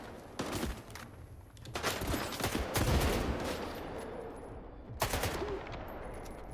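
Bursts of automatic gunfire from a magazine emptied into an enemy in the video game S.T.A.L.K.E.R. 2, several sharp volleys clustered across a few seconds at moderate volume with no speech.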